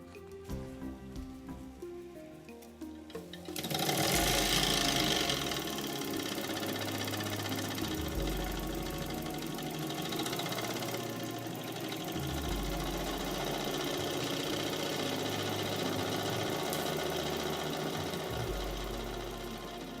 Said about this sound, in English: This device converts the oscillating linear motion of the piston to a rotary motion, turning the flywheel.